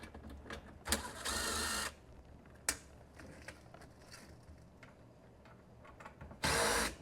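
A power tool loosens exhaust bolts on a jet ski being fitted with a stainless steel exhaust kit, giving two short whirring bursts with a sharp click between them over quiet background noise.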